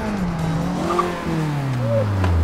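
A hard-driven race car squeals its tires loudly through a corner, the engine note sliding and falling as it slows, steady and close throughout.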